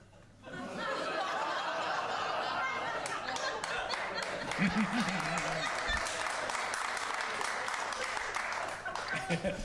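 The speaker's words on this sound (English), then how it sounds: "that was still about 8 of you applauding that" A comedy club crowd at a live Friday night stand-up show applauds and laughs, steady clapping sustained for several seconds with chuckles mixed in and a voice briefly audible underneath.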